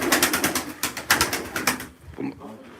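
Pigeons at a bird market stall, cooing in repeated soft pulses, close by, with a brief break near the end.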